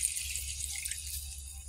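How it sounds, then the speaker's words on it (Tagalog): Water pours steadily into a cooking pot for tinola, a continuous close hiss and splash lasting under two seconds with no voices over it. "Lagyan natin ng tubig. Maraming tubig para masarap ang sabaw."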